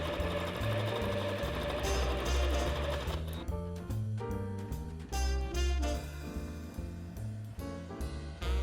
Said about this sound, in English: run a little stitch along the center of the bag just to separate out the 2 pockets